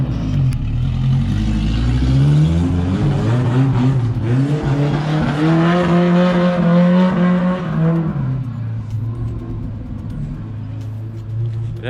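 Car engine revved hard at high RPM, a loud, close roar climbing steadily in pitch for several seconds, then dropping back toward idle.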